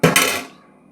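A plate is set as a lid over a pot of boiling water with two quick, loud metallic clanks close together. A short ringing tail then fades within half a second.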